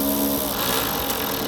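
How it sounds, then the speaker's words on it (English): A tool drives a 10mm socket down on a headlight bolt during an LED headlight install on a car, giving a steady rapid buzzing whir that runs without a break for a second and a half. "And then we'll tighten that down with a 10mm socket as well."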